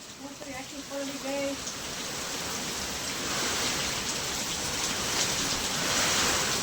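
Steady heavy rain pours down in a dense, continuous hiss over a flooded village, with a few brief tonal beeps near the start.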